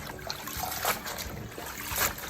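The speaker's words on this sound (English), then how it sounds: "Rinse it out. I've got a little colander over here. Put everything in the colander" Water trickles and drains through a small colander as food is rinsed in a home kitchen, a steady soft splashing with faint surges, no talking.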